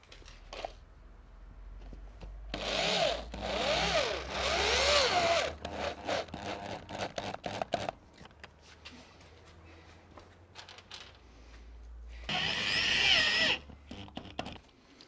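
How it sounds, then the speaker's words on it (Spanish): A power drill drives screws into plasterboard on a garage ceiling, with two loud whirring runs separated by a stretch of rattling and tapping, all close up. "voy a meter los tornillos y ahora vemos."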